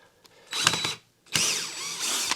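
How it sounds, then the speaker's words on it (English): A power drill backs 1.5-inch decking screws out of the 1x3 strapping wood of a fence door, with two whirring bursts separated by a short pause, close and loud, with no talking. "So the first step is to remove all the screws."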